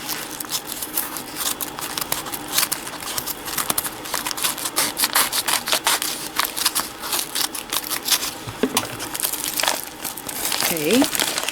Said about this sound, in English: I got a pair of scissors so I can open this.